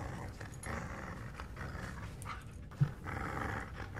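A dog in a video game pants and growls continuously, a low rough rumble running steadily under the game's ambient sound, with one brief sharper burst near the end.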